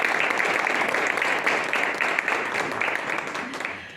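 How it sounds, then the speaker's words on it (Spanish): Steady, dense applause from a church congregation at a Sunday worship service, honoring the worship musicians; many hands clapping together at a constant level throughout, gradually easing slightly toward the end. "así que también un aplauso para ellos"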